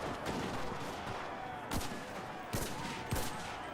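Machine gun and rifle fire crackle in a World War II battle in the video game Enlisted, with dense continuous gunfire and several louder distinct shots standing out at irregular intervals.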